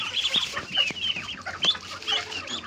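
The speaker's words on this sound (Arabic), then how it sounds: "هخرج لكم الفراخ والبط وشوفوا هيعملوا ايه، هيحصل عمليه هجوم" Chickens and ducks let out to eat protein-rich worms cluck steadily and close by, with overlapping short calls and no speech.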